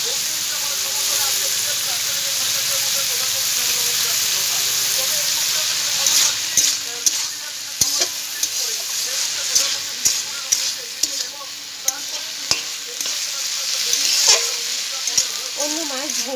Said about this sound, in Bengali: বেশ সুন্দর কষানো হচ্ছে